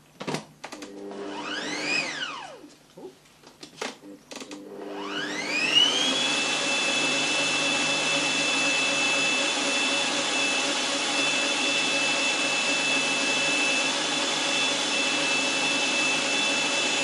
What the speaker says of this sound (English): Just one more blast in the blender.